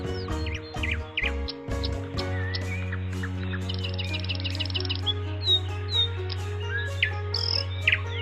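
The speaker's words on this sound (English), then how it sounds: "Suddenly, the nightingale sings." A nightingale sings alone in a quiet forest, its rich, varied song of chirps, trills and rapid whistled phrases clear and close over a steady low hum.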